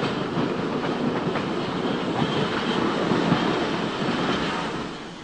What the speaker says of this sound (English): The train carrying the photographer is approaching the junction over a spur from the Great Western.